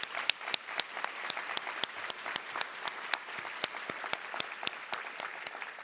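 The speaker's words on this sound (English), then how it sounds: "let's give a big round of applause again to the mayor and to her team." Sparse, distinct claps ring out from a modest crowd after a mayor's State of the City address, an uneven scattering of individual hand claps continuing for several seconds.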